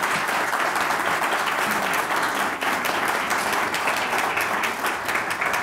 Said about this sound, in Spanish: Por favor, un aplauso para la candidata.